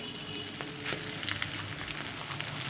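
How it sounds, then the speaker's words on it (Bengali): Fish frying in a pan in a home kitchen, a steady close sizzle with soft crackles running throughout, no voices. "তো আমার কিন্তু মাছটা এক সাইডটা কিন্তু ফ্রাই করা হয়ে গেছে এবার অপর সাইডে আমি উঠিয়ে দিয়েছি"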